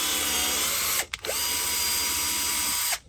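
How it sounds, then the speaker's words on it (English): A power drill bores holes into material with a steady, loud whine, stops briefly, then spins up again and runs before cutting off at the end. "So I start by just drilling 2,"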